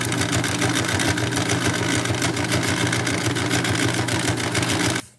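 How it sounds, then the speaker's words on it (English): A sewing machine runs continuously and loudly on a corset panel seam, a dense rapid mechanical whir that stops abruptly at the end. "now we just take it to the sewing machine"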